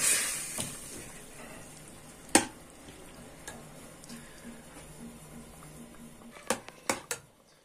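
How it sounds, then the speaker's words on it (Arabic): A spoon stirs strained tomatoes cooking down in a pot for an okra and meat stew, with faint scraping and a few sharp clinks against the pot over a quiet background. "وهقلبها واسيبها لحد ما تتسبك"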